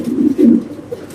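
A pair of racer pigeons gives two low, throaty coos close by, one after the other, followed by a short, softer note.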